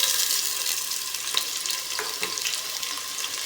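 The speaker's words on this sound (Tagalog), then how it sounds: "Mainit na sa mantika, lagay ko ng sangkap." Onion, garlic and tomato dropped into hot cooking oil for a vegetable sauté, giving a steady, close hiss of sizzling with a few brief stirring clicks throughout.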